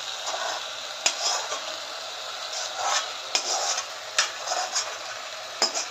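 Spice paste stirred into softened chicken in a pot for Patiala chicken, a steady scraping and shuffling texture with a few sharp spoon clicks against the pot, close and moderately quiet, no talking.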